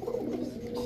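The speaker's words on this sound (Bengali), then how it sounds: "এখন দেখাবো আনার চোখের সবজি রেসার একটা মাদি কবুতর" A female Sabji Racer pigeon with pomegranate-coloured eyes, offered by a pigeon seller, coos low and close with a steady throaty hum, over a busy background and no talking.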